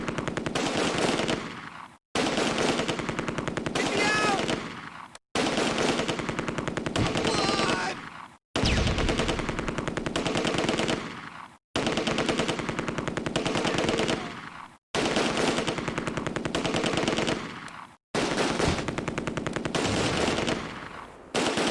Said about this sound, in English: I think our machine gun boy is finally doing some decent damage to the guys in that building.